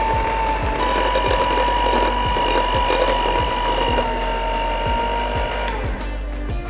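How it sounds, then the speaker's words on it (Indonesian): An electric mixer beats butter, margarine and powdered sugar at low speed for cookie dough: a steady close mechanical whir with regular ticking clicks that continues throughout, with no talking. "Dan ini kita akan mixer dengan speed rendah terlebih dahulu."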